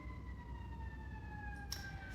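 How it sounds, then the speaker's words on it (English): Emergency vehicle sirens wail faintly outside, a steady, distant tone drifting slightly downward in pitch over a low background hum, with a brief click near the end. "So more sirens here."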